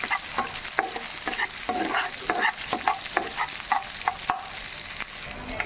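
A medium onion frying in a pan, a soft background sizzle under frequent quick scrapes and taps of a spatula stirring the pieces, close and fairly quiet with no talking.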